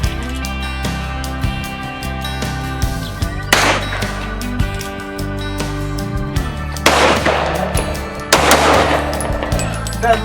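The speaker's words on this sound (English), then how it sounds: "All right, commence firing." Rifles fire at an outdoor shooting range at Cedar Ridge, with sharp cracks coming irregularly over several seconds, some close and loud, a few clustered together, and echoes trailing between them.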